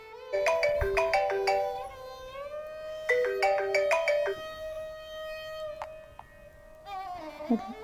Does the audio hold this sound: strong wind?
no